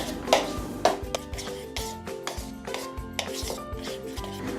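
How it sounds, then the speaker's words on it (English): A spoon scrapes and rubs through dry ingredients with salt in a bowl, a close, rhythmic series of gritty strokes and light taps against the bowl, with no voices. "give it a quick stir."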